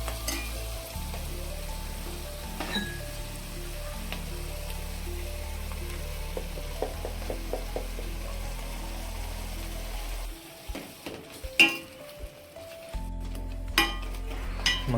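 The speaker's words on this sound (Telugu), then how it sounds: "ఆనియన్ అయితే రోస్ట్ అయ్యింది. ఇప్పుడు మిగిలిన పేస్ట్ అయితే వేసుకున్నాం దీంట్లోకి." Masala paste frying with roasted onion in a pan for a village-style stuffed brinjal curry: a steady low sizzle with stirring, spoon clinks and pan knocks, then a brief quieter gap and more clattering near the end.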